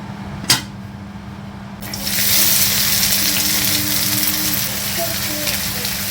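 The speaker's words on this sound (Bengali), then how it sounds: "আমার এদিকে কড়াই ফুলে যাচ্ছে" After a sharp click, a loud steady sizzle rises and keeps going, like food frying hard in a hot pan, with a low hum underneath.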